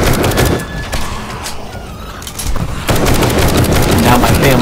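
Semi-automatic gunfire in the zombie game 7 Days to Die cracks out in rapid, dense bursts, pausing briefly before resuming loud and close.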